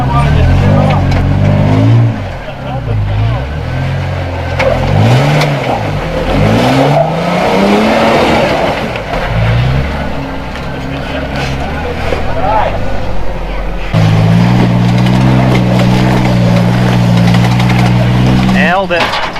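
A Toyota off-road vehicle's engine revs hard and loud on a rough trail, rising and falling in repeated surges, then settles into a steady strained drone, with people talking over it.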